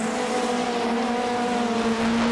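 A race car in the Dunlop Supercar Championship slides through a big sideways drift, its engine holding a steady, loud high-revving drone with a faint tire squeal underneath.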